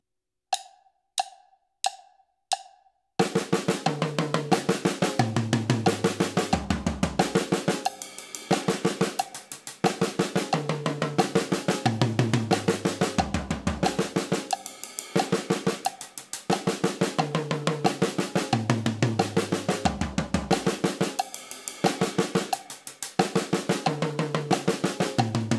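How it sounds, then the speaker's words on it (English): Four quiet clicks, then a long sequence of single drum hits moving across snare, toms, cymbals and hi-hats in an even, steady rhythm. "I'll play 4 strokes on each drum before switching to the next sound."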